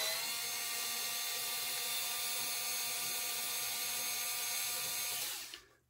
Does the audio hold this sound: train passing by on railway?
no